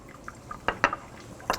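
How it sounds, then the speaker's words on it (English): Liquid is poured into sulfuric acid while crude benzoic acid is prepared in a chemistry lab, giving a few sharp splashes and drips against a quiet background. "So pouring that in, and you can see as I'm pouring it in"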